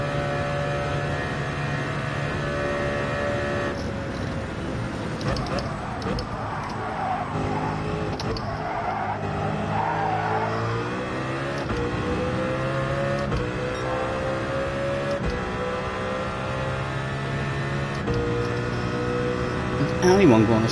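Race cars in Gran Turismo 7 roar through a continuous engine drone with shifting pitch and occasional tire squeal. A voice talks over the racing throughout.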